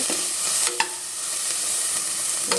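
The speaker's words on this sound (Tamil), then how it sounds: "அண்ட் மின்ட் லீவ்ஸ் ஆட் பண்ணிட்டேன். அதையும் நல்லா சாட் பண்ண போகிறேன்." Mint and coriander leaves sauté in ghee for spicy corn pulao, with a steady loud sizzle and a few sharp stirring clinks from a spoon against the pan.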